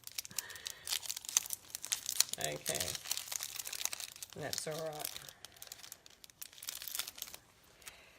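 Crinkling plastic packet of small star embellishments being torn and opened for card stamping, close and busy crackling throughout, with brief speech from a woman mixed in.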